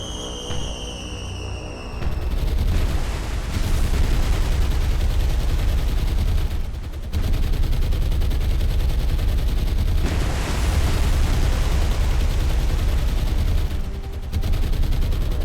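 Naval gunfire and shell explosions in the World War II naval game War on the Sea, during an Imperial Japanese Navy strike on merchant ships: dense, loud, continuous rumbling barrages of booms and blasts, briefly interrupted, with a whistling tone at the start.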